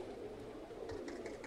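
Pigeons cooing at a pigeon club in Katerini, Greece, a soft, steady murmur of low coos over a continuous background hum, with no talking.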